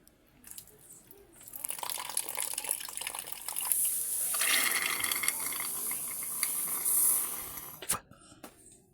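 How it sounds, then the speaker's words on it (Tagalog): Coolant pours out of a motorcycle radiator breather hose as a steady liquid gush and trickle that builds and holds for several seconds, then cuts off with a brief clunk. "Hihipan lang natin to para lumabas yung coolant dyan."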